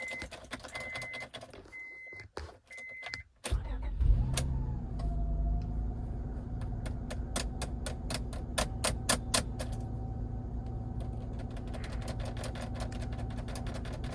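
A 2002 Acura MDX with a faulty ignition switch: a few sharp clicks, then the engine catches and settles into a steady, close idle with light ticking over the low rumble. No one speaks.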